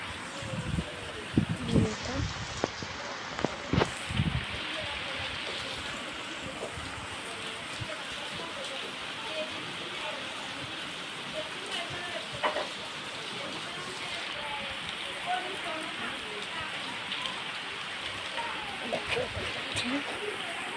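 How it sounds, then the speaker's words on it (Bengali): Heavy rain pours steadily outdoors near trees, a dense continuous hiss with a few louder spatters near the start, with a person speaking briefly over it. "বৃষ্টিটা খুব জোরে হচ্ছে।"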